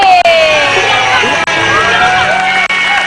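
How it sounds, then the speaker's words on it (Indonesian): A studio audience at a Lebaran special of an Indonesian celebrity gossip show cheers and shouts loudly and continuously, a bright wall of crowd voices and whoops. "Tepuk tangan buat Melanie Ricardo dan Gracia Indri"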